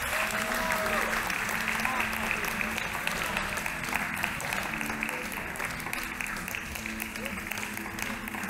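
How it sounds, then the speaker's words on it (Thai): Audience applause for Spanish flamenco dancers on stage as flowers are presented, continuous dense clapping with a faint hum and a voice speaking over it, slightly distant. "ขอเสียงปรบมือดังๆด้วยค่ะ"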